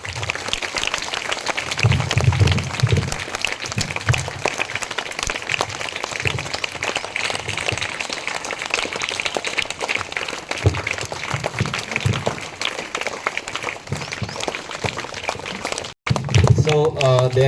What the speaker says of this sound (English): give them huge round of applause first